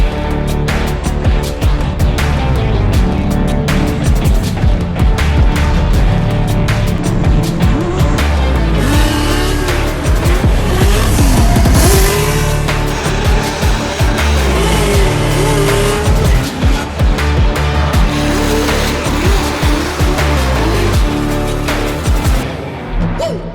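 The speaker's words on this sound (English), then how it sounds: "Larry, I gotta practice some drifting today" A 900-horsepower car drifting, its engine roaring and revving hard while the tires squeal and skid in long bursts, loud and close for over twenty seconds with no talk.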